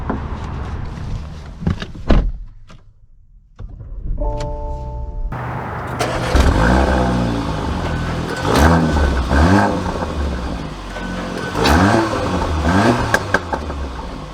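A 2023 Porsche Macan SUV: a few door thuds and a brief chime, then the engine pulls away in repeated rising acceleration sweeps, close and fairly loud.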